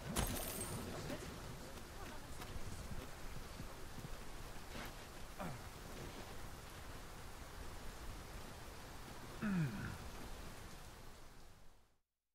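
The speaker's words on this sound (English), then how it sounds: "I love the rain in this game." Steady rain falls in the fantasy role-playing game Dragon's Dogma 2, a constant broadband hiss that runs for about twelve seconds, with a few soft thuds and a brief tonal sweep near the end.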